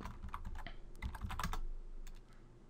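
Quick typing on a computer keyboard during a Kali Linux session, a close, soft flurry of irregular key clicks that pauses briefly before a few final taps.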